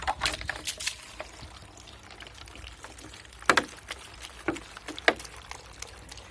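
Clean water splashes and pours into a glass jar for rinsing after pickling cucumbers, in a few short bursts with sparse patter between, close by and moderately loud.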